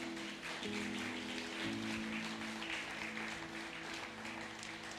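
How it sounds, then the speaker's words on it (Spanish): A church congregation applauds steadily and loudly throughout, a continuous broadband wash of clapping with a sustained tone, likely organ or keyboard, underneath. "Denle un fuerte aplauso al Señor."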